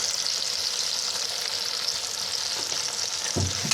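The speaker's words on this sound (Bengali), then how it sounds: "এবার এর মধ্যেই আমি পেঁয়াজ বাটাটা দিয়ে ভালো করে ভেজে নেব।" Steady, close sizzling of onion paste frying in hot oil, a dense crackling hiss throughout with a faint scrape near the end.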